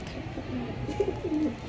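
Pigeons coo inside a loft in Purba Bardhaman, Bengal, giving soft, low, rolling calls that rise and fall close by, with faint background noise.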